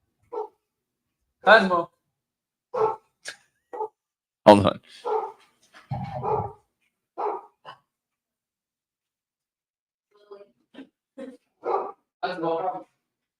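A dog barks in scattered single and double bursts over several seconds, fairly close. A person speaks briefly between the barks.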